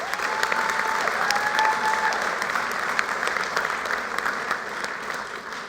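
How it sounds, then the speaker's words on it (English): Crowd at a high school graduation ceremony applauds award and scholarship recipients with steady, sustained clapping and a few whoops, filling a large space at moderate volume. "Please join me in one more round of applause for all our scholarship and award recipients."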